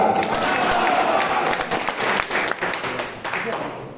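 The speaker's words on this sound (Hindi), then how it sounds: "जोरदार ताली के साथ नमस्कार" An audience in Bhagalpur claps loudly in greeting, a dense burst of applause that swells and then tapers off gradually toward the end.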